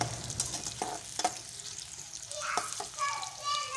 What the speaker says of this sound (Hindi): प्याज को अच्छी तरह से ब्राउन कर लेंगे, साथ साथ कभी चलाते जाएंगे ताकि ये प्याज जो है वो साइड से जले ना।